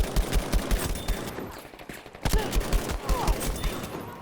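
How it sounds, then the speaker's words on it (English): Firecrackers in the video game Battlefield V crackle in rapid, uneven bursts of sharp pops, a fast rattling string that pauses briefly and then resumes, fairly close and loud, with no speech. "Oh, of course the firecrackers are out."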